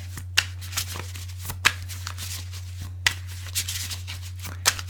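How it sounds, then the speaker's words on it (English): Tarot cards being shuffled in quick, crisp bursts with short pauses between, close up over a steady low hum. "One more shuffle."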